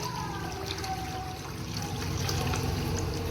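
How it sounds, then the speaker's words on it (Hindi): Water poured steadily into a cooking pot while making rice, a continuous trickling splash close by and moderately loud, with faint children's voices in the background. "इसके अंदर पानी जो है हम डाल लेते हैं और खुला पानी डालेंगे।"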